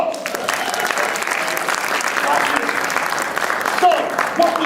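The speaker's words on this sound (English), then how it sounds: "Give yourself a round of applause." An audience at a CUNY student leadership conference claps in a dense, steady round of applause that holds at an even level throughout.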